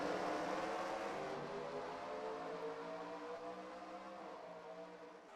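Race cars in a Dr Pepper Dash Series racing video game at Steelback take the green flag, with a steady, dense roar of many engines holding throughout and easing slightly toward the end, with no voices.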